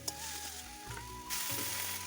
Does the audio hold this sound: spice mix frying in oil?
yes